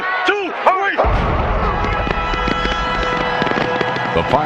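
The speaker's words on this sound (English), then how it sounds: "The fireworks that lit up the Miami sky would soon pale before those that exploded on the field." Fireworks burst over a stadium in Miami before a Super Bowl football game, a run of sharp pops and crackles over a steady roaring crowd.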